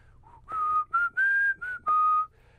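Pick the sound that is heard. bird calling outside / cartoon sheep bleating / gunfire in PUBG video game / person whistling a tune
person whistling a tune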